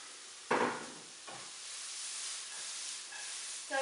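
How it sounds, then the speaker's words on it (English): Meatballs browning in olive oil in a pan over low heat: a soft, steady sizzle and hiss with a couple of sharper spatters and clatters, close and fairly quiet. "with a bit of olive oil, we're going to brown everything for 5 minutes"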